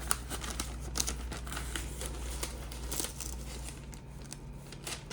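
Shiny backing peeled off handmade felt eyes, a steady close crinkling and crackling of film with small tearing ticks, quiet and alone.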